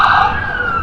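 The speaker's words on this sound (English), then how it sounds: "Without this emergency siren, my walk is incomplete basically." An emergency vehicle siren wails loud and near on a New York City street along Broadway in Manhattan, a steady high tone over traffic rumble.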